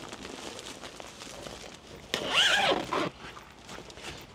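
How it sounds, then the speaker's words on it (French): A zipper is pulled open along the fabric side opening of a pop-up roof tent on a Carado CV 600 Pro camper van, one brief close rasp amid quiet rustling. "On va pouvoir avoir des ouvertures en fait sur les côtés avec des systèmes de fermeture éclair."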